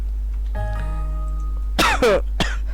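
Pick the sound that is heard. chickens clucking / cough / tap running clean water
cough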